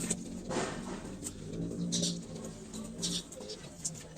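Pigeons cooing in a loft, several soft low coos repeating in a loose rhythm at close range, with faint rustling and occasional brief higher bird sounds between them.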